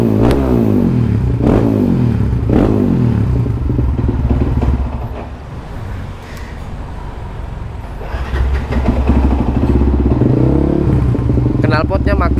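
Yamaha WR155R motorcycle fitted with a Kala Performance carbon exhaust, revved in sharp rhythmic bursts, loud and close, easing to a quieter idle midway before revving again.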